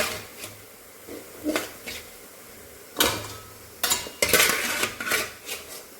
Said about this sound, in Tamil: இந்த சிக்கனை இதில் போட்டு நல்லா கலந்து விட்டுடலாம்